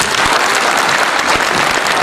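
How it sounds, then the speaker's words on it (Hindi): An audience at a staged drama about a thalassemic family bursts into dense, steady applause, a continuous wash of many hands clapping at full volume with no voices over it. "इनके लिए भरपूर तालियां दूंगा।"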